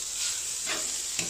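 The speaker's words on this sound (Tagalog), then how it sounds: "Igisahin muna natin yan" Vegetables for chicken soup are sautéed in a pan, giving a soft steady sizzle with a couple of brief stirring scrapes, close and fairly quiet.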